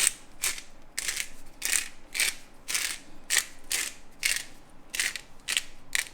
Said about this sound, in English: So I'm going to crack some black pepper.